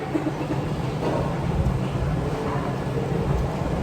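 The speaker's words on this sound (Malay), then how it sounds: "Hujan." Rain falls with thunder, a continuous broad wash of downpour over a low rolling rumble, steady and fairly loud throughout with no voices.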